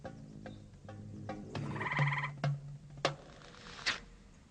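A few short croaking frog calls, somewhat mammal-like, fairly close in a garden, scattered among clicks and outdoor ambience with no voices.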